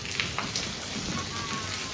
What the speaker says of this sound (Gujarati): ફાઇનલી મેહોણામાં બહુ ટાઈમ પછી વરસાદ આવ્યો